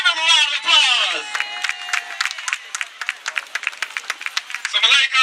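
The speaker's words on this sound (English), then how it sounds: "Give him a round of applause." Audience applause at an outdoor festival, with scattered hand claps and cheering that build to a rapid patter, under a voice speaking over a loudspeaker at the start and end.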